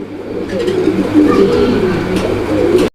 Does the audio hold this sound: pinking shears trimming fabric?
no